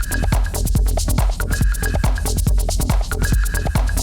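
Punchy compressed kick drum and distorted bass driving a beat programmed on a Roland SP-404 MK2 sampler, with EQ-tightened drums hitting in a steady dense groove, loud and up front with no talking.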